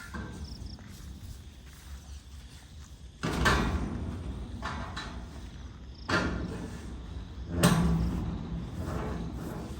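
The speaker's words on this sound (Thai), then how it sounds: "เปิดประตู" A door is opened, with three loud, abrupt bumps and scrapes spaced a few seconds apart over a quieter background with crickets chirping.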